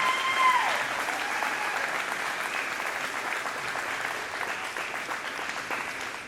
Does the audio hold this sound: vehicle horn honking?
no